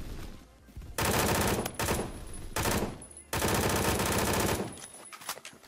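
Automatic gunfire in the video game Phantom Forces rattles out in several loud, close bursts of rapid shots, broken by short pauses, with no voices.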